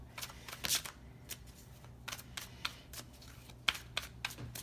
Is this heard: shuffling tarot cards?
yes